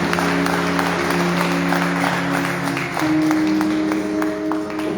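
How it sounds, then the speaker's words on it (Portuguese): A church congregation breaks into applause during a celebration service, a dense stretch of overlapping clapping with a sustained tone ringing underneath. "Senhor, salve de palmas para o Senhor Jesus."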